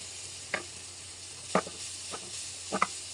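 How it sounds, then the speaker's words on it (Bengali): Yardlong beans fry lightly in a pan with a soft, steady sizzle, broken by a few brief clicks and crackles from stirring, fairly quiet throughout. "তাহলে আমি আগে হালকা করে ভেজে নিই"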